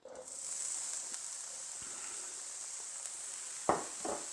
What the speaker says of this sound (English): And you just want to throw that in the pan and brown it up.